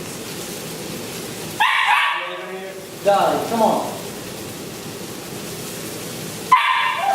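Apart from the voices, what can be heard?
dogs barking excitedly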